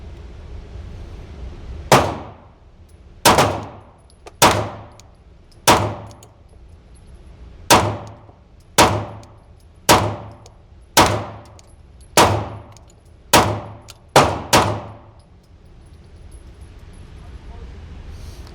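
A Glock pistol fires about a dozen sharp shots in an irregular series, each followed by a ringing clang from steel targets at 18 yards, loud and distinct against a quiet outdoor range.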